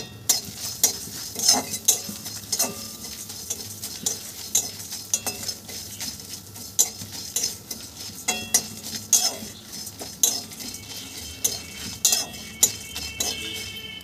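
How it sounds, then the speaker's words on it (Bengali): Whole spices and torn bay leaves being dry-roasted and stirred in a kadai for dahi vada, with repeated light metallic scrapes and clinks of a spoon against the pan in an irregular rhythm, close and fairly quiet, no talking. "কড়াইয়ের মধ্যে সব মশলাগুলো দিয়ে দিয়েছি। এবারে মশলাগুলো সব ভেজে নেব।"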